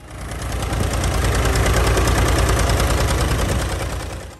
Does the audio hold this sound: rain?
no